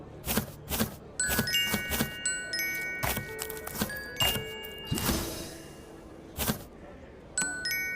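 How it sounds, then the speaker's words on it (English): Repeated bright dings of a service bell in a cooking video game, several sharp rings with ringing tails spread over a few seconds among soft clicks and thunks, with no talk. "Place the meal on the serving table and ring the bell."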